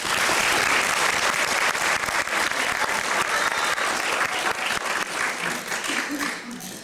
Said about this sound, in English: So I really want to give a round of applause to Sean Thompson.